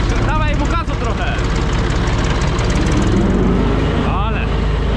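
Ursus C-360 tractor with a Perkins engine running close by, its loud steady rumble rising as the engine is revved, with people talking over it.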